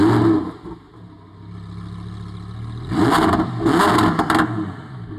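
A Lamborghini Huracan STO, a street-legal racing car at the Vallelunga racetrack, idles with a low burble, then rises through several sharp, loud revs in quick succession, rough and crackling at the top, with no talk.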